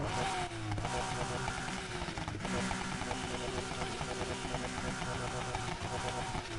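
A flat-six car engine in Need For Speed Heat revs with a steady, throaty, deep drone and a couple of pitch drops from gear changes, loud and sustained, with faint talk underneath.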